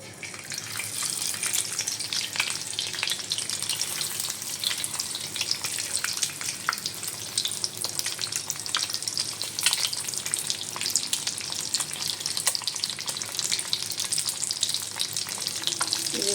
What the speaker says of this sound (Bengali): সিদ্ধ করে রেখেছিলাম 2টো ডিম, সেটাকে ভাজবো।